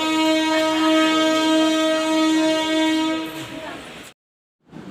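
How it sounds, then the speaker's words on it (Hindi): Passenger train departing from a station, a loud sustained horn blast over rolling railcar rumble, close by, then cutting off abruptly to silence before the rumble resumes. "ट्रेन जा रही है तो ये देख रहे हैं।"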